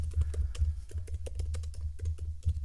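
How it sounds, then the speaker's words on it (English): Rapid, uneven keystrokes clatter on a computer keyboard while a Google search is typed, a close and steady run of clicks with no voices. "if you are going to go into Google and type, for instance, a search"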